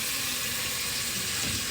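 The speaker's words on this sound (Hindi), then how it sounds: "ये पानी हल्का सा डाल के" Water poured into a pan of cooking masala with red chilli, turmeric and salt, giving a steady close splashing and faint sizzle that runs alone throughout.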